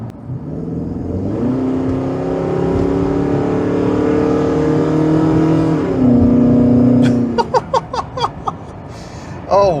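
A Ford AU Falcon XR8 V8 ute with an aftermarket exhaust accelerates hard, its loud engine note climbing in pitch and then breaking into sharp, choppy bursts as the throttle lifts, with a brief laugh near the end.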